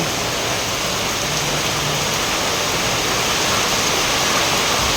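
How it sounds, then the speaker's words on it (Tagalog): Loud, dense downpour roaring steadily without pause, a thick wash of heavy rain close by, on a cold rainy day at Marilaque in the Philippines. "Oh, ganito po kalakas yung ulan."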